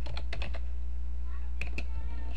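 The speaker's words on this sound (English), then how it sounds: "and then you type your text" Short bursts of typing on a computer keyboard, a handful of quick clicks at the start and a couple more near the end over a steady low hum.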